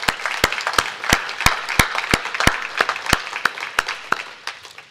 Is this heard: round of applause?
yes